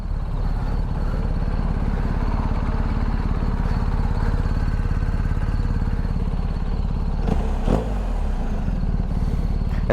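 A BMW R 1250 GS Adventure motorcycle engine runs steadily and close by, a continuous low rumble with a brief clattering burst near the end.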